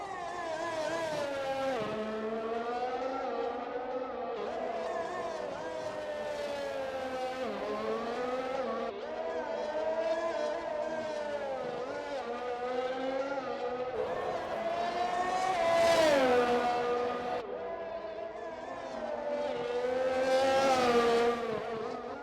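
Race cars lap the Singapore circuit in a racing video game, the engine note wailing up and down through gear changes in smooth repeating sweeps, loud and continuous, climbing to peaks near the end.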